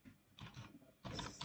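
Keys tapped on a computer keyboard in two short clusters of quiet clicking, close and faint, with no one talking.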